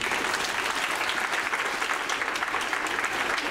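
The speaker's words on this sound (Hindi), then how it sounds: "तो इनके स्वागत में ताली बजाइए" Schoolchildren applaud to welcome a visiting chief guest, a continuous, even crackle of many hands clapping close by for several seconds.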